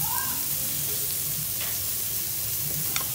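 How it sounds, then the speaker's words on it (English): Garlic sautéing in butter in a pan for a salmon chowder, heard as a steady soft sizzle and hiss close by, with faint stirring taps and a few brief clicks. "saute in the butter"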